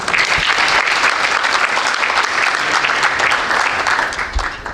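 Audience applause at the 26th Nat Nakasa Awards ceremony, a dense, loud, steady wash of clapping from a large crowd that carries on for several seconds before easing slightly at the end.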